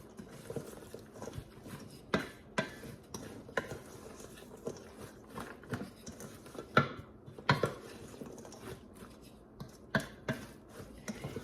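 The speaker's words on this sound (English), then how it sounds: "I'm just going to stir it up real good, and let's see if it covers it all" Dressing is stirred into coleslaw with a spoon, giving irregular wet thumps and clacks against the bowl, close and moderately loud.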